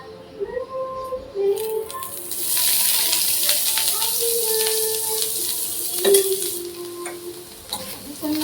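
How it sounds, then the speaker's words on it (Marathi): Bitter gourd roasts in oil in a pan for a Marathi-style karela bhaji, with a bright sizzle rising as it is stirred, scraping and clinking of the spoon, and a voice talking intermittently over the cooking. "हे अशी जरा भाजून घ्यायची चांगली."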